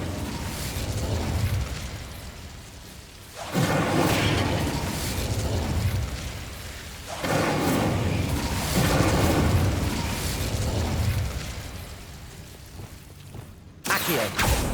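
Incendio fire spell cast in Hogwarts Legacy, heard as several loud whooshing fiery bursts that swell and fade in waves, each lasting a few seconds, with a sharp burst near the end.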